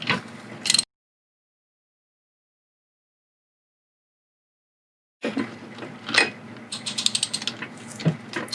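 BMW F10 brake caliper piston being wound back with a compression tool: ratcheting clicks and metallic grinding for under a second, a long silent gap, then several seconds of ratcheting and scraping.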